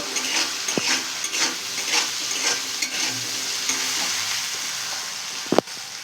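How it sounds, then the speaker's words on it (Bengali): Small cubes of potato fry with salt and turmeric in a pan, a continuous close sizzle broken by scraping stirs and one sharp metallic knock near the end. "ওপরে দেবো লবণ হলুদের গুঁড়ো দিয়ে একসঙ্গে ভালো করে ভেজে নেব"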